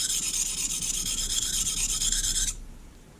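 A kitchen knife is drawn back and forth across a coarse sharpening stone, making a steady, close gritty rasping that stops abruptly near the end.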